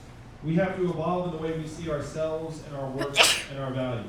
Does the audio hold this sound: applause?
no